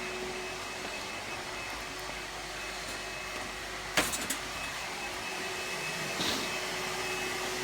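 A Numatic Henry cordless vacuum cleaner runs with a steady, loud motor whine throughout, broken by a brief clatter of debris being sucked up midway and a faint knock near the end.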